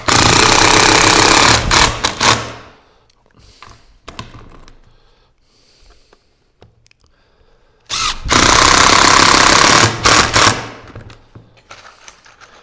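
A power driver with a star bit drives screws in two loud, close, whirring bursts of a few seconds each, separated by quiet handling clicks.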